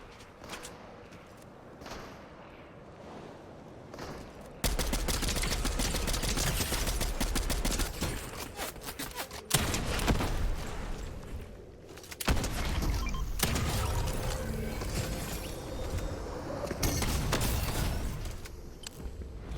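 Gunfire from players fighting in Fortnite Zero Build: bursts of rapid shots and booming blasts come in long, dense stretches, broken by brief quieter gaps, loud and continuous through most of the scene.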